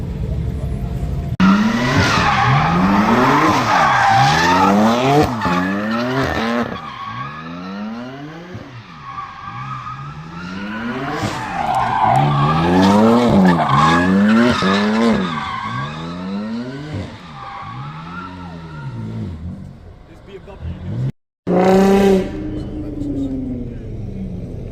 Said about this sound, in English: racing and ragging their cars about